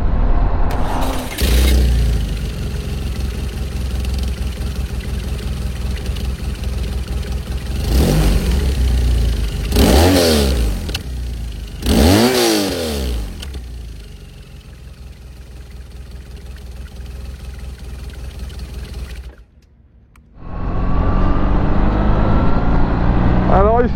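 A motorcycle engine and exhaust rumbling while riding, rising and falling through several revs amid rushing wind noise.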